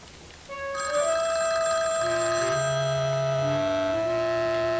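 A telephone rings indoors, a steady electronic ringing tone that starts after a brief quiet moment and continues loud and close for several seconds, with no talking.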